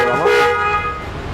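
Locator alarm horn on a Honda Goldwing 30th Anniversary motorcycle with a flat-six engine, sounding a steady, close tonal honk that rises briefly then holds and gradually fades.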